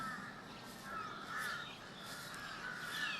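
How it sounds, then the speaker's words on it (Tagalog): Crows caw repeatedly in Lumpini Park, Bangkok, several harsh calls rising from a steady outdoor hum of city park ambience, moderately distant and faint. "Ang daming uwak talaga."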